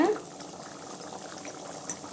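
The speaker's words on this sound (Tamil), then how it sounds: "இப்போ குழம்பு கொதித்து நல்லா ரெடி ஆயிடுச்சுங்க" A pot of okra tamarind curry bubbles and simmers steadily, a soft continuous gurgling with one brief louder pop near the end.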